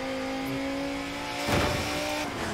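Racing car accelerating in Forza Horizon 4, engine note rising alone with a loud burst of revving and tire noise in the middle before settling back.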